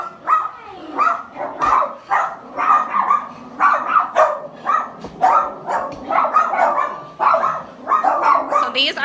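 Several small-breed dogs at an animal shelter yapping and barking in quick, overlapping bursts, close by and fairly loud, with some whimpering between barks.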